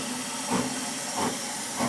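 A human voice imitates the hiss of an 1888 steam railcar, making three soft, breathy hissing puffs at an even pace, faint and close.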